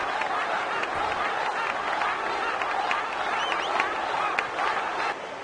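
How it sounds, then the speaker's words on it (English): Steady crowd cheering and clapping fills a Final Fantasy X blitzball stadium at the first game, a dense continuous roar with scattered claps and whoops throughout. "Well, they're cheering"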